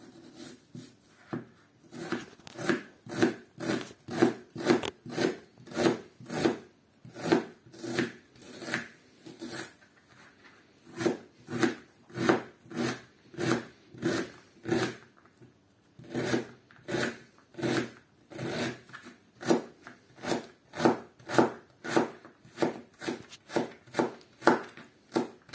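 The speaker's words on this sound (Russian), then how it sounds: "Лук нарезаем мелким кубиком." A knife chops onion into small cubes on a board, a steady run of soft, rhythmic strokes about one per second, close and quiet, with a few short pauses and no talking.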